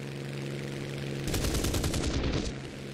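A rapid burst of aircraft cannon fire in War Thunder, about a second of fast rhythmic thumping shots over a steady engine drone, then the drone continues alone.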